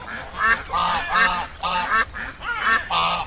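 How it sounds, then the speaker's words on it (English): A duck quacks repeatedly, about six loud, nasal honking calls in an uneven rhythm, close and clear with no other sounds around them. "Duck. Duck."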